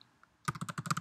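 Quick run of crisp computer keyboard keystrokes while entering text during website setup, about a dozen close clicks in a fast burst after a brief quiet start.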